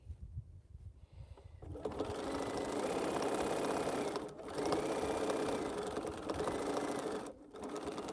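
A sewing machine runs steadily, stitching rows of a cotton quilt together, with a continuous buzzing whir that stops briefly twice before resuming, close and alone without talk.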